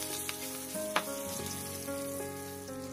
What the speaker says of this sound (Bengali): ডিমগুলো দিয়ে ভালো করে ভেজে নেব।